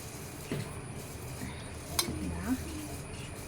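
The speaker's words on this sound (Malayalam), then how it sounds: "നന്നായിട്ടൊന്ന് മിക്സ് ചെയ്യട്ടെ ഇത് മിക്സ് ചെയ്യാൻ ഭയങ്കര പാടായിരിക്കും" A spoon scrapes and clinks in a bowl as a coffee powder facial mix is stirred, soft uneven scraping with a couple of sharper taps, under a voice.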